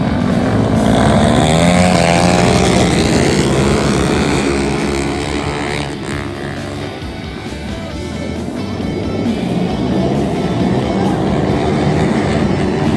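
Flat track motorcycles racing hard in a busy last-chance qualifier heat, engines roaring loud and continuous with rising and falling pitch as bikes pass close by, dipping briefly in the middle before surging again.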